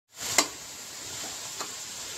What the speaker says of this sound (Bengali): এখানে আমি পেঁয়াজটা দিয়ে দিয়েছি, এবারে ভাজছি ভালো করে